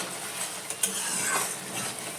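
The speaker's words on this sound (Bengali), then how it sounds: "মশলাটা ভালো করে একটু ভেজে নিই।" Spice masala frying in a pan while being stirred, a steady close sizzle broken by a few scraping strokes and a sharp metallic tap of a spoon on the pan, no talking over it.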